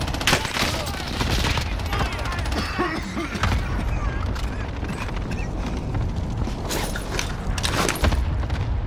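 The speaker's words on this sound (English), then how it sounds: "Shots fired" Rapid bursts of automatic gunfire and mechanical clatter from a team-based multiplayer shooter match, dense and continuous across the scene, with voices talking over the shooting.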